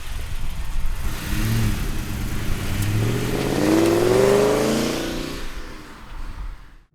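A 2003 Ford Mustang SVT with a 6-speed revs hard, its engine rising into a loud, climbing whine before easing off toward idle.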